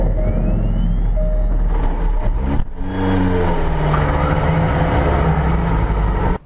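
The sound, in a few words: Jaguar C-X75 hybrid supercar engine roaring into life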